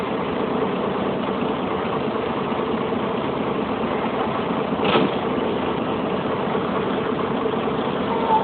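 A ferry boat engine drones steadily at a constant low rumble, with a brief louder knock partway through, crossing the Godavari River at Narsapuram.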